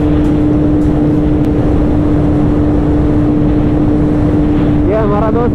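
A Honda CBR 650 motorcycle on the move gives a loud, steady engine drone with a constant tone, mixed with wind rush, and a voice cuts in briefly near the end.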